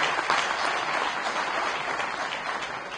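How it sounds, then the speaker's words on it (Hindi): An audience at a Delhi municipal by-election campaign speech claps together, a dense continuous wash of hands that stays level and fairly loud for about three seconds, no voice over it. "तो अपने लिए एक बार जोरदार ताली।"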